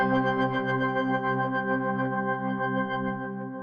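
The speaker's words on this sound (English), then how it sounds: "when I put the sample into phase plant, it sounds like this without any edits being made" A piano sample played back as an unedited wavetable in the Phase Plant synth, giving a steady, sustained harmonic tone with stacked overtones that holds evenly and fades slightly toward the end, with no voices.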